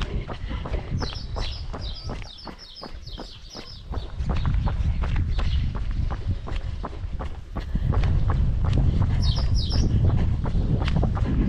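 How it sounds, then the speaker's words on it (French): Birds chirp and squawk in palm trees near a white village while someone walks along a trail between vineyards, with steady footsteps crunching up close and bird calls scattered through. "Je ne sais pas si vous entendez les oiseaux."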